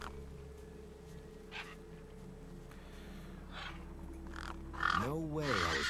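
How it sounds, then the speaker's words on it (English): Crows caw harshly over a corpse in the video game Beyond A Steel Sky, several rough calls scattered across the clip, the loudest cluster near the end, over a steady low ambient hum. "No way I was going to get between those birds and their feast."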